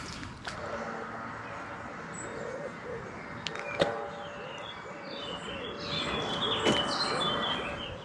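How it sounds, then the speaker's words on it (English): Birds chirp and call in open Austrian countryside, scattered short notes at moderate distance over a quiet outdoor background, with a couple of sharp nearer sounds among them. "The birds are singing."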